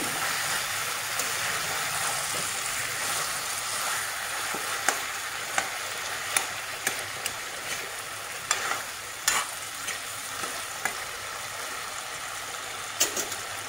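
Local chicken curry with long pepper simmers in a pan after water is added, a soft bubbling sizzle under repeated spoon scrapes and clinks against the pan.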